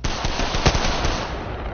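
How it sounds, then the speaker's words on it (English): Enemy gunfire in a video game on a mountain map: a rapid, continuous burst of automatic shots with one heavier crack partway through, loud and dense, with no voices over it. "Enemies are shooting at me."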